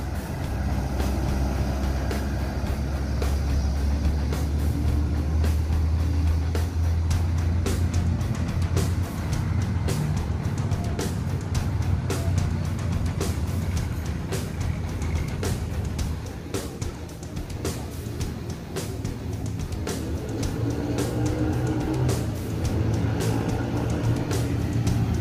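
A long-distance bus pulls out of Terminal Barai Solok, its deep diesel engine rumbling steadily and loudly nearby. Other passing traffic and clattering noises mix in over about twenty-five seconds.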